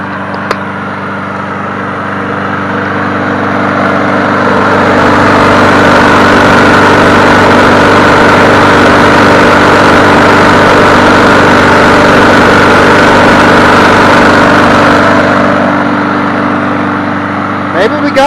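A Murray 450e 21-inch push lawn mower engine runs steadily at constant speed, a loud, close, even drone with a steady hum that holds from start to finish.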